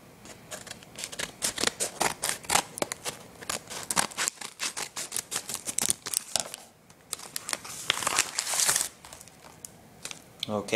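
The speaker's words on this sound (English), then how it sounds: "Trusty scissors." Scissors snip and slice through newspaper wrapping on a package, a dense run of crisp cuts mixed with paper crinkling and rustling, close and fairly loud throughout.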